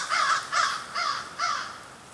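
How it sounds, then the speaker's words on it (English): Crows calling outdoors, four harsh cawing calls in a fairly even rhythm, moderately distant and clear against a quiet background. "look, we're under attack by the birds"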